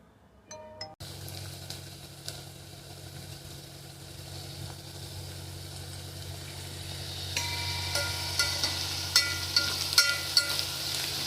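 Chopped onion, green chilli, fenugreek leaves and mixed vegetables stir-fry in a pan with a steady low sizzle that grows brighter partway through, with soft stirring taps and scrapes near the end.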